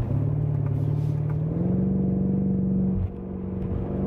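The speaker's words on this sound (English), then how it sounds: "So we're driving in the sportiest mode, going through the paddle shifters." A BMW M5 with a torque-converter automatic accelerates hard in its sportiest mode on paddle shifts. The close engine drone steps up in pitch at a quick upshift and then eases off after about three seconds.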